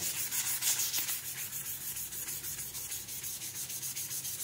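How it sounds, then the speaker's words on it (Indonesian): Steady back-and-forth rubbing of sandpaper on metal, polishing it to a shine, a rhythmic hissy scrape repeating close up with no talking. "kita amplas gini kita gosok sampai mengkilat"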